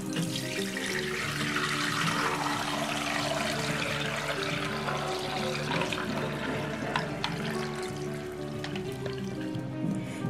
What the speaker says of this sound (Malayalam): ഇനി നമുക്കിത് അരിച്ചൊഴിക്കാം